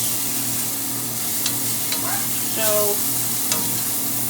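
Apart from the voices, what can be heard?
onions and shallot sauteing in grease in a pan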